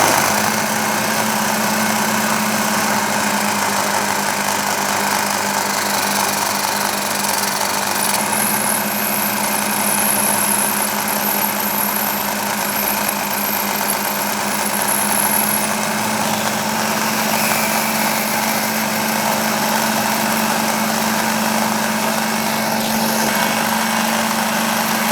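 A number 29 tapping drill bores a hole for an 8-32 thread in a small model finger engine part, the machine running as a steady, loud high-pitched whine with a constant hum beneath it.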